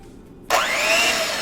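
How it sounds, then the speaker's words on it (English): Electric hand mixer with a whisk attachment switches on after near silence and runs steadily, giving a loud, close, continuous whirring whine with a high motor tone. "I have my handy dandy electric mixer here. Got my whisk attachment."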